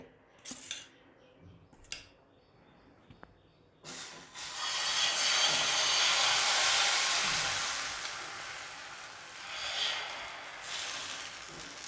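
Spring onion batter for kanda pati aayate hits a hot pan and breaks into a loud, steady hiss that holds for several seconds, after a few quiet clinks and taps at the start.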